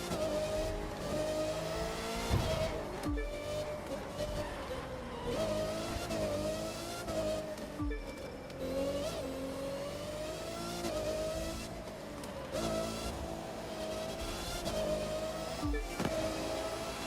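A car engine revs in the racing game The Crew 2, a sustained mid-pitched drone that climbs and drops with several gear shifts over a rough road, steady and moderately loud without talk.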